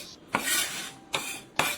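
A knife on a cutting board chopping leftover small onion pieces, three sharp close strikes spaced about a second apart, each followed by a brief rasp of the blade.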